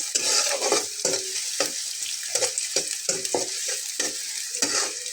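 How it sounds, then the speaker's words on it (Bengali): Onions fry lightly in a pan for a bitter gourd dish, a bright hiss of oil cut by regular stirring strokes of a spatula scraping the pan, close up with no voices. "তো পেঁয়াজটাকে একটু সামান্য ভেজে নেব, লাল করব না।"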